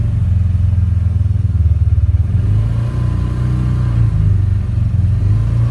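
A Polaris Ranger 570 side-by-side engine revs steadily near 3,000 rpm, a loud, close, continuous low drone with a fast rhythmic chug and a slight swell midway, with no talking.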